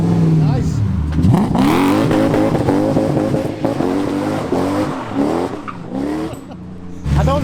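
A Nissan Sylvia S15 fitted with a 3UZ 4.3 litre V8 revs hard for a burnout, its loud engine note climbing and falling in repeated sweeps with tire squeal and voices mixed in.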